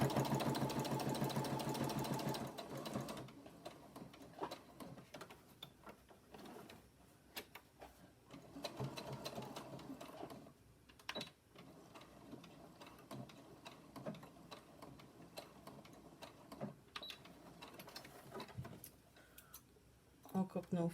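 A home sewing machine stitches elastic onto a homemade fabric face mask, its motor whirring in uneven bursts with short pauses between runs while a voice talks over parts of the stitching.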